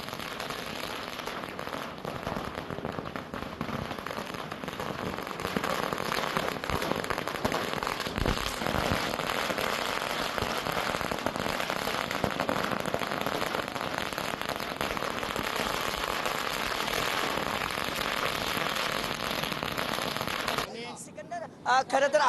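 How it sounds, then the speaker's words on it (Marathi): Firecrackers set off at a street celebration in Mohol, Solapur, after a Maharashtra Kesari wrestling title win, heard as a dense, continuous crackling rattle like a long string of small bursts, with voices faintly underneath before it cuts off. "फटाके फोडत आणि गुलाल उधळत जे आहे तो हा जल्लोष जो आहे तो साजरा करण्यात आला."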